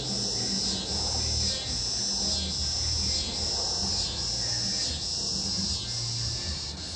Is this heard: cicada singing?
yes